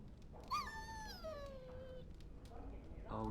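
A dog in the Dragon Age Origins video game lets out a long, high whimper that bends downward and trails off, fairly close and clear, followed by a shorter whine near the end.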